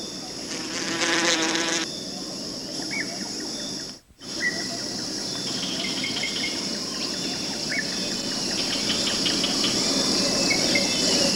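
Wasps buzzing around their paper nests hung from stems or branches, a steady insect drone with faint higher whines, continuous throughout apart from a brief dropout near the middle.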